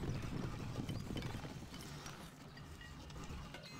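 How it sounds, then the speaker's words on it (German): Galloping horse hooves from the medieval strategy game Stronghold 2, a dense, continuous rumble of clattering hoofbeats with mechanical rattling mixed in, loud and steady throughout. "Mein Pferd ist schnell."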